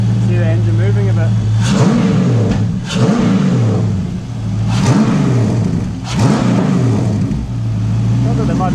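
A BMW E30 fitted with an LS1 V8 idles loudly up close with a steady low drone, its loose engine mounts letting the engine rock, and several short revs swell and fall back at intervals.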